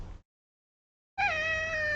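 A brief bit of noise, a moment of silence, then one long, clear cat meow held close and loud until the end.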